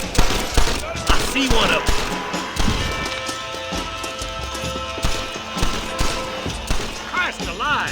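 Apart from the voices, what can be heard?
gunfire in Red Dead Redemption video game shootout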